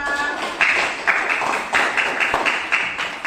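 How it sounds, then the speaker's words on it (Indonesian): A classroom of students claps together in a brisk rhythmic pattern of repeated bursts, fairly close and moderately loud, with no talk over it. "tepuk tangan untuk semua."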